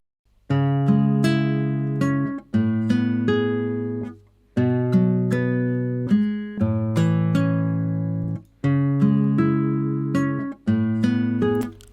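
A virtual guitar plugin by Ilya Efimov plays a steady sequence of plucked chords and notes, each phrase ringing out then cut short, with no voices present.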